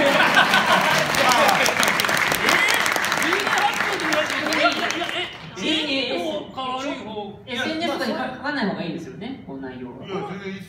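Audience at a sumo talk show with wrestler Takekaze, warm dense applause for about five seconds, then fading into talk and laughter from people on stage.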